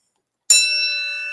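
A single bright bell ding strikes sharply after a moment of silence, then rings on with a clear, sustained metallic tone that slowly fades.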